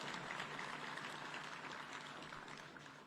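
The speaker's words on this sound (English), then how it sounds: "You can clap for yourselves." Graduates at a National Defence University graduation ceremony in Lanet, Nakuru County, Kenya, applaud themselves with a faint, distant wash of clapping that holds steady throughout.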